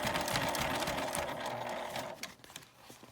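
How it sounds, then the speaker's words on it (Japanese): Sewing machine stitching slowly through a thick fabric tab while attaching a circular end to a zippered toilet paper case, a steady close mechanical whir that runs for about two seconds and then tapers into a few scattered clicks. "ちょっとこのタブのところの厚みがあるので、ゆっくりミシンを動かします。"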